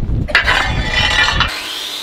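Metal isolation plates being cut for a welded dinghy hull, a close, harsh grinding-cutting noise with a brief pause midway, ending in a fading whine.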